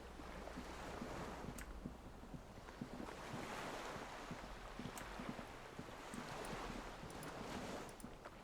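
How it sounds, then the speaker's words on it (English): A small skiff rocks on gentle waves beside a dock in Disco Elysium, with soft lapping water, faint creaks and wind noise forming a quiet, steady ambience. "The skiff is swaying on the waves by the dock."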